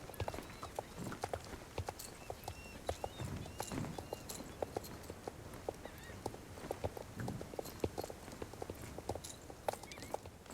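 Faint horse hooves clip-clop steadily in the Star Stable video game, a continuous walking rhythm of light taps with small chirps and ambient game sounds in the background.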